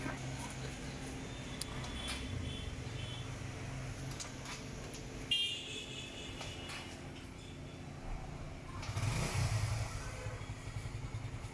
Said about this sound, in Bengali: ব্যাটারি ছাড়াই কিকে স্টার্ট হচ্ছে।